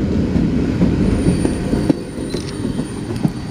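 An empty coal train rolling past at night, loud and close, with rumbling wheels, faint squeals and scattered clanks from couplers and cars over a steady grinding roar.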